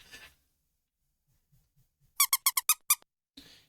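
A burst of about seven quick, high squeaks in a tight rhythm comes from a video game, following a few faint soft ticks, with a brief noisy rustle at the end.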